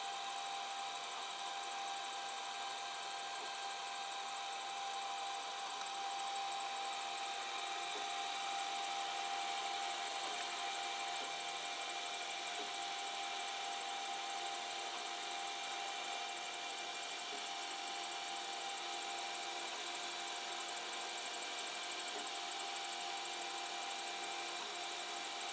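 A model diesel engine starter runs steadily for the whole stretch, a constant high-pitched mechanical whine and buzz at a fixed, unvarying level, with no voices over it.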